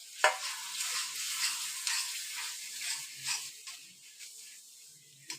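A spoon scrapes and stirs through a soft, steady sizzle of spices frying in a pan for chicken roast, with a sharp clink at the start and end.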